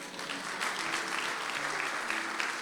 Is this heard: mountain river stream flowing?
no